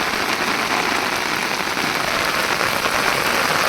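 Heavy rain pelts down on a fishing boat on the Ganges in Nadia, a loud, dense, unbroken roar of drops striking the surface and water all around, with no one speaking.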